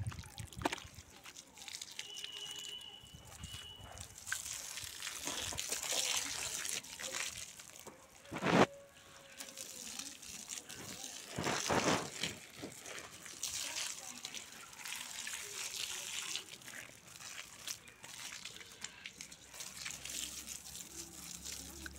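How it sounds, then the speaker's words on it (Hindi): Water trickles and sloshes onto flower plants in an outdoor garden, faint and intermittent across the stretch, with a few brief gushes; people talk over it now and then. "फ्लावर्स को पानी डालेंगे"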